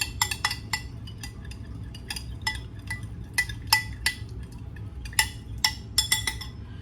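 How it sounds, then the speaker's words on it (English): A metal spoon clinks rapidly against a bowl while whisking egg wash for a rhubarb and strawberry rhubarb pie, a quick irregular run of light taps and scrapes, fairly close. "I'm just gonna whisk that together. I know this isn't a whisk, it's a spoon"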